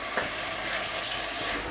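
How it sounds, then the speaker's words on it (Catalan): Grated tomato sizzles and fries steadily in a pan, with occasional scraping of a spoon stirring it, close and continuous without any talking. "I ho remenarem i ho deixarem fregir una estoneta més."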